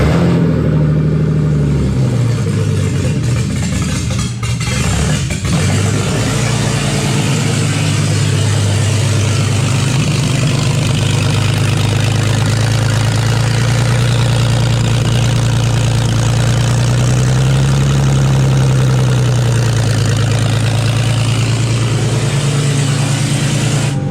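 A turbocharged BMW Z-Kart engine starts and runs steadily, loud and close, with a constant idle drone and a few slight pitch wanders and revs over the whole stretch.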